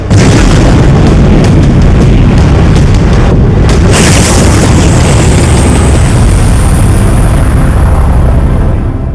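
An explosive test shot fired after a countdown, heard as a sustained, very loud roaring blast that fills the whole stretch with a brief sharp burst near the middle, no voices.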